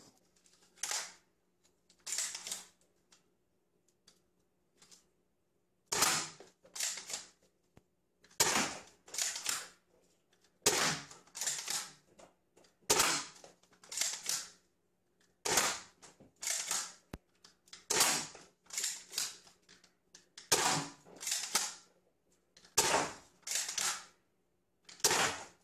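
A ZWQ Metal S200s CNC Viper blaster fires a series of sharp, crisp shots, each a loud snap with a short mechanical tail, spaced about a second or two apart and repeated many times in an otherwise quiet room.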